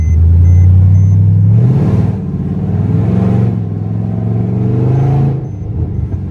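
A Mercedes C63 drives on a double road, its engine giving a loud, close, deep rumble that swells as it accelerates and then settles into a steady drone.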